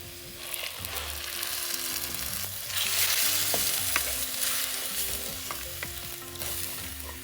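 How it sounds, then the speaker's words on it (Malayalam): Roasted coconut paste thinned with water is poured into a pan for a sardine curry, sizzling softly while a spoon scrapes and stirs in irregular strokes, close and fairly quiet. "ഇനി ഇതിലേക്ക് ഞാൻ അരപ്പ് ചേർക്കുകയാണ്."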